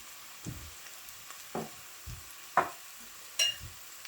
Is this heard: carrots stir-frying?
yes